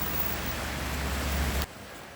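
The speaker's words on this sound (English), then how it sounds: "Nothing but rain." Steady rain pours down at a roadworks site, a dense hiss of falling drops that cuts off abruptly near the end.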